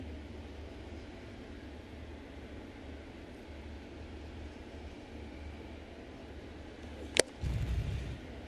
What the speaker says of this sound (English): Exploding fastball into the mitt.